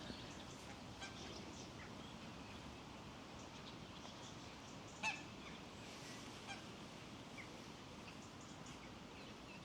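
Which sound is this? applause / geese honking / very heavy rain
geese honking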